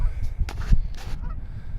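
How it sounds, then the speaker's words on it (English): Several honks from geese at a distance, a few short calls over steady outdoor rumble and wind. "Freaking geese over there."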